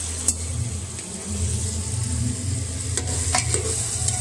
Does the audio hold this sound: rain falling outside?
no